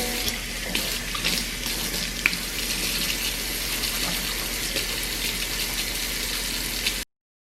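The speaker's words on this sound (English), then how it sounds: "It's actually dirty, so I'm just gonna wash it real quick" Tap water gushes steadily into a sink as a knife is washed, a continuous close rushing stream with faint clinks, which stops abruptly at the end.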